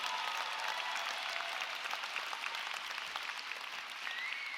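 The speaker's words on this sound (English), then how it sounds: "You need to give, in my view, the biggest applause to your family." Steady, distant applause from a university commencement audience fills a large venue, a continuous even wash of clapping that stays fairly faint throughout.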